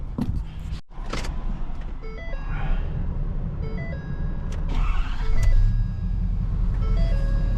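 A Ford F-350 pickup truck drives along with a steady low engine and road rumble inside the cab, overlaid by a few faint electronic tones and chimes.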